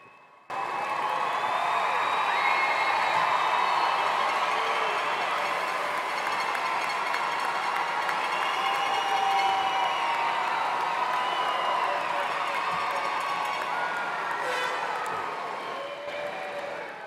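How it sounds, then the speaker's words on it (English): A large crowd at a university spring commencement ceremony stands and applauds, a broad, continuous wash of clapping with faint cheers and whoops, steady for over fifteen seconds before easing slightly at the end. "Your family and friends, stand up and applaud."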